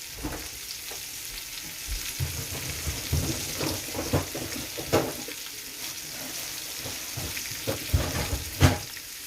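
Steady sizzling of chicken frying in a pan, with scattered scraping and clinking as it is stirred, fairly close.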